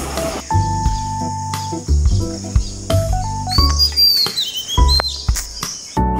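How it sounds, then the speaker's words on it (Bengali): Birds chirp and trill at dawn in quick rising sweeps, with insects faintly buzzing, all layered over steady background music. "ভোরবেলা এত সুন্দর পাখি ডাকে"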